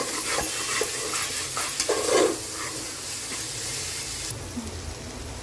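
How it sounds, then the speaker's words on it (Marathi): Prawns sautéing in oil for a prawn biryani, a steady close sizzle with stirring scrapes and a few clinks of the utensil against the pan, no talk. "आता आपण याच्यावर टाकूया कोळंबी परतून घेऊया"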